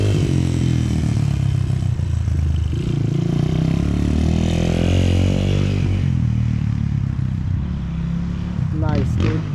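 Loud and near, a rebuilt 1982 Honda XR200R motorcycle rides and revs, its engine climbing and dropping in pitch with rattly clatter as people talk over the noise.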